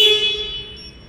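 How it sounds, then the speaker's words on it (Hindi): A single electronic horn beep from a Bajaj Chetak electric scooter, with a bright, buzzy tone, sounding close and loud, then fading out over about a second. "ये इसका हॉर्न है"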